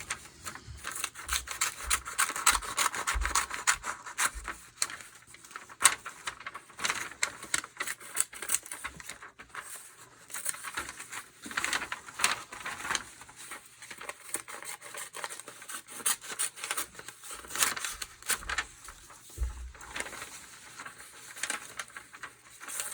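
Strips of newsprint being cut with scissors and torn by hand for papier-mâché mask making, with repeated irregular snips and rustling rips close up, in bursts throughout and without any speech.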